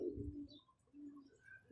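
Two low, throaty pigeon coos sound nearby in a quiet space, separated by a short pause, with faint chirps in the background.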